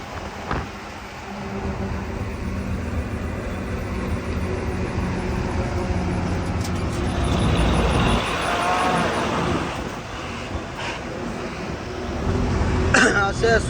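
Traffic passing over the Kamrej bridge near Surat, heard from inside a truck carrying onions, a continuous rumbling road and engine drone with vehicles swelling past and a voice speaking over it.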